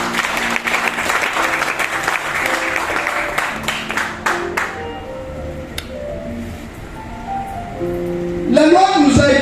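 A church congregation claps together loudly for several seconds, the applause tapering off into scattered claps and room murmur before a voice speaks and music rises at the end.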